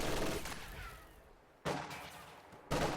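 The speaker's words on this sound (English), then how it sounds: "MG42 is going to suppress those conscripts on the cutoff" MG42 machine gun fire in a strategy video game, heard as loud bursts of shots with a pause between them.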